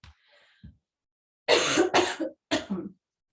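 Three harsh coughs in quick succession, close and fairly loud, preceded by a faint breath and a small throat sound.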